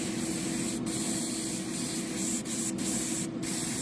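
An airbrush sprays reducer and airbrush cleaner in a continuous steady hiss, close and even throughout, over a low background hum with no talking.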